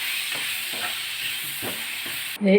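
Coriander leaves being stirred into a sizzling onion mixture in a pan, with a steady frying hiss and soft scraping strokes repeating under it, then a louder clatter right at the end.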